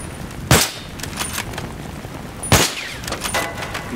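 Gunfire in the Battlefield 3 campaign on PC: two loud, sharp rifle shots about two seconds apart, each followed by echoing tails and smaller crackling reports.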